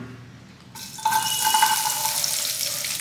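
Chopped onions drop into hot oil in a kadai and burst into a steady sizzle after a brief lead-in. The frying hiss stays bright and continuous to the end.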